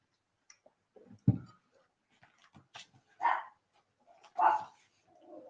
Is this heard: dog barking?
yes